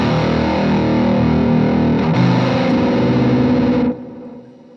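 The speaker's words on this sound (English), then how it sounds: "Let's try the Proctavia by Voodoo Lab, which is on that pedal board again." Electric guitar played through a Voodoo Lab Proctavia octave fuzz pedal, a thick, heavily distorted sustained tone with a fresh attack near the middle, then cut off sharply and left to fade out.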